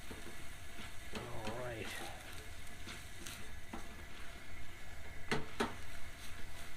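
Shrimp stir fry with noodles being stirred in a Pathfinder skillet outdoors on hunting property, a steady sizzle running throughout with a few sharp scraping clinks near the end, a voice speaking briefly over it.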